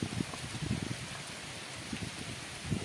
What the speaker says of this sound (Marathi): थोडासा वाऱ्यावर आलाय पाऊस